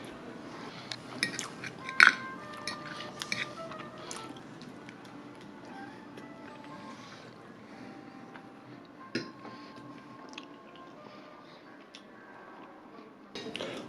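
Chewing a crunchy snail snack topped with homemade Mexican avocado salsa and chili hot oil, heard as scattered close crunches and wet squishes with a louder bite early on, quiet between bites, no talking.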